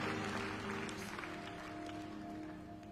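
A congregation at a church service gives a loud clap offering, a dense wash of applause that fills the room and tapers slightly, mixed with a sustained musical drone underneath.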